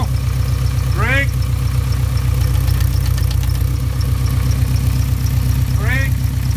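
A VW T3 Syncro van with a transmission noise on deceleration and braking, a steady close engine drone with rhythmic low rumble and occasional brief squealing whines rising over it, loud throughout.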